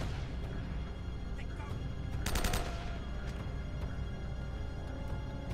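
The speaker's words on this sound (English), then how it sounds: "Stop shooting me." Enemies open fire in Uncharted: Drake's Fortune, a sustained din of distant gunshots and rattling bursts with one sharp louder volley in the middle, over a steady background rumble.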